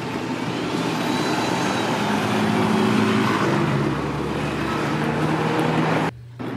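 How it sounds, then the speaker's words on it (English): Several London buses pull out of Kingston bus station with a sustained, loud engine drone and rumble that builds slightly, then cuts off abruptly near the end. "And a couple of unidentified buses there, just following it out."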